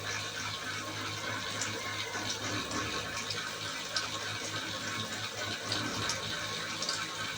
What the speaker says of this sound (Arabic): اهو شايفين اللبن نزل عندكم اهو، اللبن نزل في الحل اهو